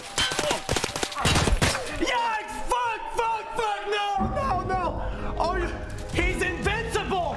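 Rapid gunfire bursts and shots from the tactical shooter Escape From Tarkov, loud and close, mixed with excited voices talking over the action and other game sounds throughout.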